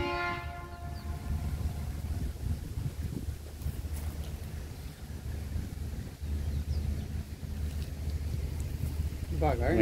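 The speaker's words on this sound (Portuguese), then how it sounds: "Tá vindo o trem, galera." A train horn sounds briefly at the start, then a steady low rumble builds as the train approaches and rolls past, with wind noise throughout.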